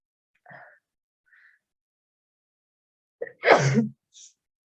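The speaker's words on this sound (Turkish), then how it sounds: "Ay hapşıracağım." A single sharp sneeze bursts out after a couple of soft breaths, loud and close, followed by a brief quiet exhale.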